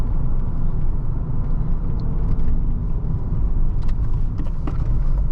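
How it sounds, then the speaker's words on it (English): A 1997 BMW 320i Touring's inline-six engine drones steadily while driving, a loud continuous rumble of engine and road noise with a few faint higher clatters near the end. "This inline-6 power plant is great."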